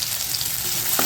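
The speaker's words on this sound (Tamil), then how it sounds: "வெங்காயம்லாம் ரொம்ப சவக்கெல்லாம் வதங்க வேண்டியதில்லை, லைட்டாக வதங்கினாவே போதும்." Onions for chutney sauté lightly in a pan, a close, continuous sizzle with a brief stirring scrape near the end.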